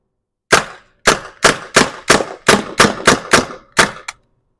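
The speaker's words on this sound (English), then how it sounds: "we're gonna do some shooting" An air-powered gun fed from an air tank with a regulator and integrated on/off slide valve fires about ten sharp, loud, close shots at a steady quick pace, each a crisp crack with a short tail, then falls silent.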